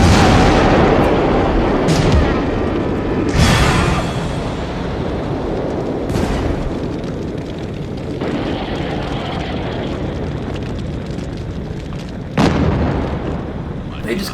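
Massive explosions and gunfire from the action film Maximum Overdrive, a dense roaring barrage with repeated sharp blasts bursting out of a continuous rumble, loud and sustained throughout.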